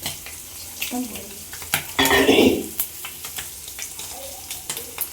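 Food frying in hot oil, a steady sizzle with stirring and utensil scrapes against the pan, rising to a louder hissing burst partway through.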